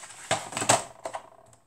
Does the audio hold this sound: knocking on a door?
no